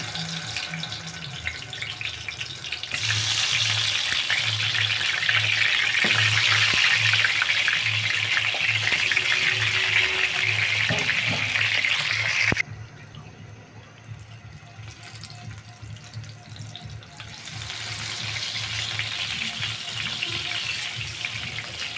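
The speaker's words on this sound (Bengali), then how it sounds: "তেলটা গরম হলে মেখে রাখা বেগুন দিয়ে দিলাম" Marinated brinjal pieces dropped into hot oil in a pot, giving a loud steady hiss and sizzle that fills the first half, then drops quieter before swelling again, with no talking.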